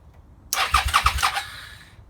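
Suzuki SV650 V-twin motorcycle engine cranking over on the starter, a loud close burst of rhythmic churning pulses that fails to catch and fades away, with no talking.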